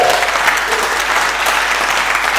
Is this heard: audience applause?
yes